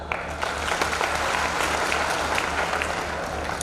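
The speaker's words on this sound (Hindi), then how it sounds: "और एक बार अच्छे से ताली बजाओ।" Audience clapping at a Hindi kavi sammelan poetry gathering, dense, sustained applause from a large crowd, loud and steady without a break.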